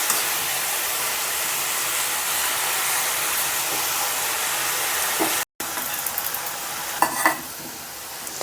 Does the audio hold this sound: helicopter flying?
no